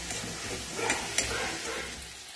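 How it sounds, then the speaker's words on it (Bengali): Ginger-garlic paste sizzles steadily in hot oil in a pan while making prawn malai curry, a loud, continuous hiss with a couple of brief stirring scrapes. "এরপর দিয়ে দেবো আদা রসুন বাটা, একটু কষিয়ে নেবো"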